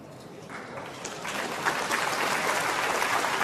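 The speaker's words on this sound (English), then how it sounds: "you felt when you heard that little bit of applause" Brief applause from a snooker audience at a Grand Prix semi-final in Xi'an in 2024, a steady patter of clapping that swells after the first second and holds at moderate, slightly distant level, with no talk over it.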